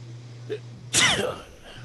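A single sharp sneeze close to the mic, preceded by a quick intake of breath and set against a low steady hum.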